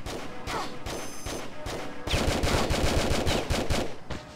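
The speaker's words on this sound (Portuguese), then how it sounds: "a gente vai colocar 10 tiros bem na fuça dele e ele morre" Rapid bursts of revolver gunfire in Tomb Raider Chronicles, Trajan's Markets level, dense repeated shots that grow louder and faster in the second half.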